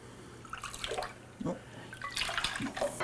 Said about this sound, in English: We're going to put that in with the egg mixture.